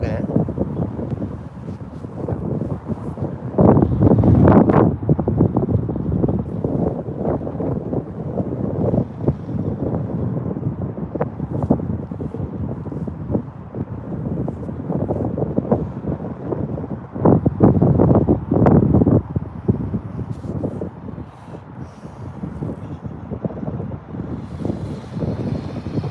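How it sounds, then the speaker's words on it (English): Gusty wind buffets the microphone outdoors at Birmingham Airport, a steady low rumble that swells in stronger gusts, with a voice talking over parts of it. "The wind is definitely picking up lately."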